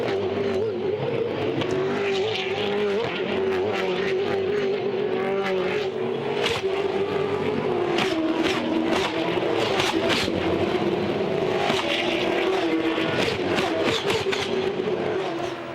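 V8 Supercars roar past one after another down the straight at the 2011 Townsville 400, engines droning loudly with rising and falling pitch and clattering bursts, a constant crowded motorsport din.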